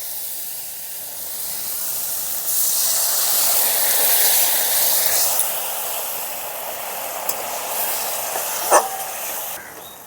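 Water poured into a hot pan of salted karonda fruit for chutney sets off a loud, steady hissing sizzle that swells partway through and holds, close and alone, with a few small clinks near the end.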